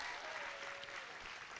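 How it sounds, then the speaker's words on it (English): A brief, faint burst of audience applause at a live tutor night show, a soft, steady patter of clapping from a room. "So can we have a bit of applause for them now?"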